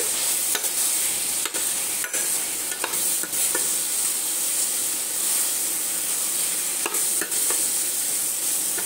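Turmeric and other spices frying in a pan for a ridge gourd bhaji, a steady bright sizzle throughout with occasional sharp spatula taps and scrapes against the pan, close and continuous, no voices.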